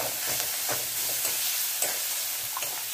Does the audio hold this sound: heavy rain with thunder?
no